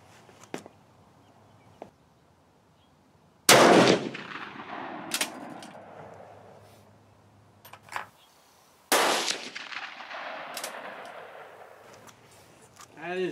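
Two sharp, loud rifle shots from a Swiss Model 1940 K31 at an outdoor range, about five seconds apart, each ringing out with a long echoing decay over quiet background.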